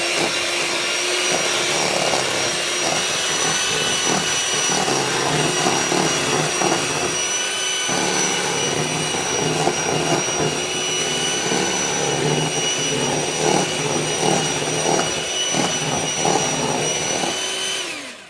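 An electric hand mixer whirs steadily through banana bread batter, a loud, continuous high-pitched motor whine with a slight rhythmic wobble as the beaters churn, running for the whole stretch before cutting off at the end.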